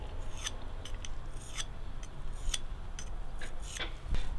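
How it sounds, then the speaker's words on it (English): A sharpening stone is stroked outward across the inside of an Arbortech power chisel blade, giving a series of quick, light scraping rasps at an uneven pace, close and fairly quiet, with no talk. "you just give it a few strokes outwards, like that. And that'll just take off the inside roughness."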